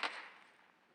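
A single gunshot cracks in PUBG Mobile, one sharp report followed by a fading echoing tail, fairly faint and with nothing else around it.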